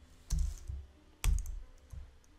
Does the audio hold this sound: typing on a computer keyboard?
yes